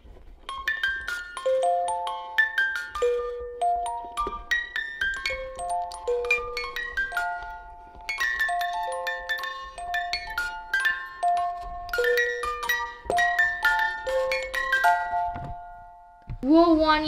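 A toy plays the Jingle Bells melody in bright, chiming electronic bell-like notes, a steady tune running for about sixteen seconds at close range before a brief voice at the end.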